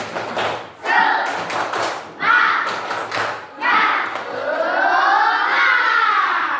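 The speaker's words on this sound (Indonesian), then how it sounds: "Tepuk semangat." A classroom of children performs the tepuk semangat spirit clap, a morning cheer: bursts of rhythmic group clapping and thumps mixed with children's shouting voices, loud and close, in several short waves.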